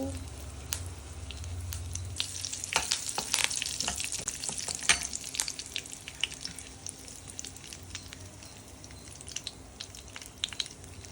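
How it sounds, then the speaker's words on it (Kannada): Asafoetida, mustard seeds and curry leaves hit hot oil in a pan and sizzle, with sharp pops and crackles bursting over a steady frying hiss that eases off toward the end. "ಸ್ವಲ್ಪ ಇಂಗ ಹಾಕೊಳ್ಳಿ ಆ್ಯಂಡ್ ಸ್ವಲ್ಪ ಸಾಸಿವೆ, ಕರಿಬೇವಿನ ಸೊಪ್ಪು"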